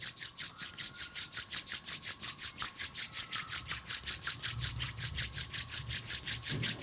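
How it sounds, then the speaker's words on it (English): Palms rubbing briskly against each other during a meditation session, a steady rhythmic swish of skin on skin repeating about five times a second, close and alone with no talk. "Rub your palm against each other,"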